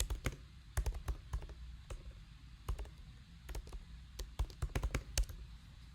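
Code being typed on a computer keyboard: close, crisp key clicks in irregular bursts and single taps, fairly quiet, with no voices.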